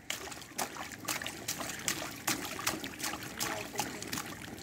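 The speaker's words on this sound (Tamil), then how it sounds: "சரி சரி தண்ணியில் விளையாடுங்க" Children splashing and playing in a swimming pool, irregular bursts of splashes and slaps of water at close range, repeating every half second or so over a wet background wash.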